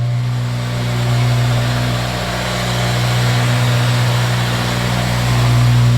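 Acura RSX Type S engine idling and rising in steady, droning revs, close and loud, with no talking.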